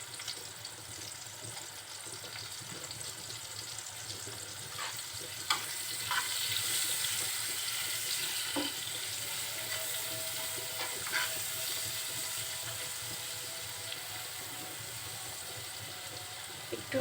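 Salt and turmeric sizzle in a hot frying pan while being stirred, a continuous soft crackle with occasional scraping clicks from the utensil and a slight lift in intensity partway through.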